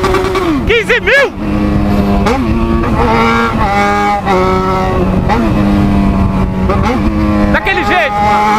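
A Yamaha XJ6 motorcycle ridden at night, its engine droning steadily with pitch shifts as the throttle changes, while the rider shouts and talks excitedly over it.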